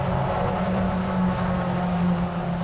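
Toyota MR2 race cars circulate at Donington Park, engines holding a loud, steady droning note with slight swells as the field runs close together.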